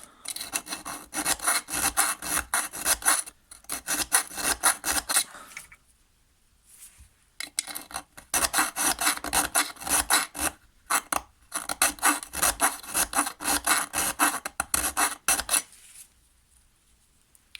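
Rough rasping of a chainsaw flat hand file against the metal muffler of a STIHL MS 151 TC chainsaw, in repeated bursts of quick strokes separated by short pauses, close and fairly loud, with no talking.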